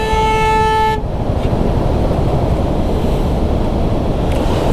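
A swollen, fast-flowing river in Uttarakhand, running high after cloudbursts, makes a loud, continuous broadband roar. A short horn toot sounds at the start over the rushing water.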